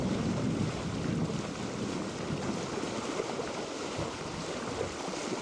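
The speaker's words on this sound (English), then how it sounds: "You can hear the flow of the water as we sail along." Water rushing past the hull of a sailing boat moving through Alaskan waters in a gentle 10-knot breeze, a steady broadband wash with wind buffeting the microphone, continuous and fairly close, with no talking.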